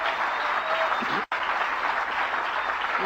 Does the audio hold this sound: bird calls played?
no